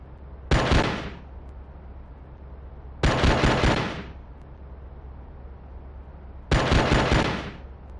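An auto pistol in the Oni video game fires at targets in a training room, three separate loud bursts of rapid shots spaced a few seconds apart, with quiet between them.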